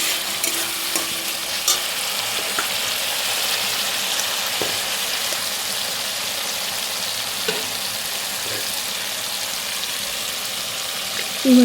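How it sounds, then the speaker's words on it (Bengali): Spices fry in a kadai for a cauliflower and potato curry with a steady, fairly loud sizzle. Frequent stirring scrapes and taps sit over it, and a clunk comes at the end with no speech. "এখন আমি এরকমভাবে ভেজে যাতে কড়াইতে না লেগে যায়"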